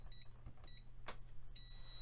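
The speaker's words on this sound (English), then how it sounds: "a quick beep test to see if everything is somehow connected to each other" A multimeter on continuity test gives short, faint electronic beeps in a quiet room, several brief tones spaced apart, alongside a low hum and a soft click.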